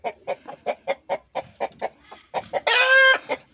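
Healthy year-old hens cluck in a quick, steady run of short calls, then a year-old rooster breaks in with a loud, drawn-out crow before one last cluck, all close by with no talking.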